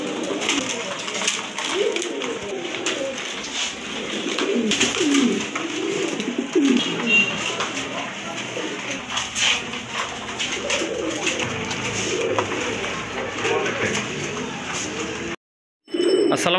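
Many pigeons in a pigeon collection coo steadily and densely throughout, a continuous murmuring chorus close by, with a brief drop to silence near the end before the cooing resumes.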